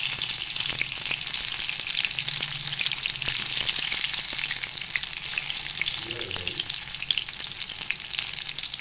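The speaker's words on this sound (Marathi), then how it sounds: "हा बघा, हा अशा पद्धतीने तळून घ्यायचा आहे आपल्याला पकोडा." Paneer pakoda deep-frying in hot oil gives a steady, dense sizzle that runs on evenly throughout, close and fairly loud with no voices.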